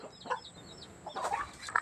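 A chicken at a Thai temple in Lampang clucks in short, soft bursts, a few quick clucks near the start and a busier cluster toward the end, fairly close but quiet, with no voices.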